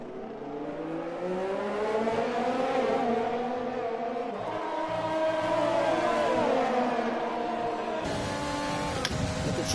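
F1 race cars scream around the Britain circuit in the F1 2020 video game on PS4, engines revving high and shifting pitch continuously as cars pass and accelerate, a steady loud whine with no talking.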